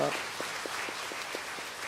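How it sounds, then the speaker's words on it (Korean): A small church congregation gives a brief round of applause to welcome a newcomer, with a handful of distinct, spaced claps over a soft background and a voice at the start. "우리 박수로 환영합니다"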